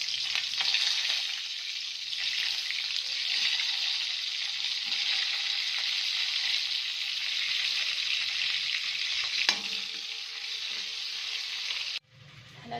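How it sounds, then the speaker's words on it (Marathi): Stuffed brinjals fry in tempering oil with a loud, constant close sizzle that carries on for a long stretch, touched by an occasional stir or clink before cutting off sharply near the end. "ह्याला छान तळून घेऊयात"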